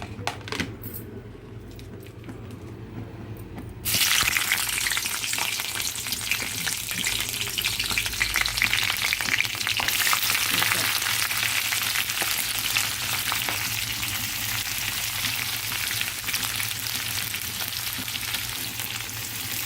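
Onions and green chillies frying in a pan for a potato masala fry: a quiet start, then a loud, dense sizzle bursts in as they hit the oil and keeps crackling steadily, close up with no talking.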